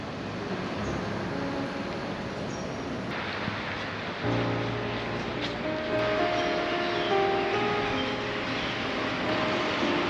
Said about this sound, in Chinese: 现在开始下雨了